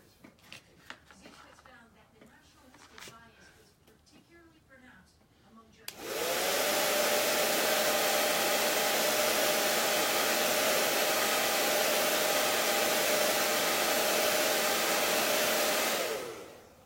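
A hair dryer switches on abruptly and blows steadily for about ten seconds to dry a chalk paint transfer, a loud close whooshing hum, after softer handling noises and speech before it starts.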